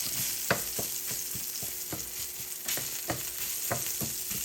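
Sausage being chopped up in a skillet for sausage gravy: a steady frying sizzle with a run of sharp, rhythmic utensil taps and scrapes against the pan, close and clear.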